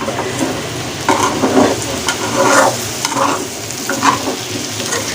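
Potatoes frying in a pan are gently stirred, with several soft scraping turns over a continuous close sizzle and no voices.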